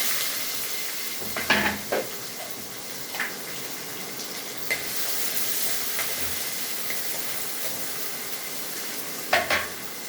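A tempering of cumin, curry leaves and onion sizzles steadily in hot oil for a raw-mango gojju, with occasional sharp clicks and scrapes of stirring against the pan.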